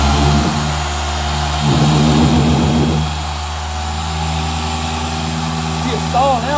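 A 15mm dual-action paint polisher hums steadily as it runs on car paint, its motor tone shifting slightly with pressure, while someone talks over it throughout.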